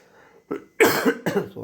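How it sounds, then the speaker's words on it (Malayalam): A few sharp, close coughs in quick succession, each a short harsh burst. "ചുമയുണ്ട്."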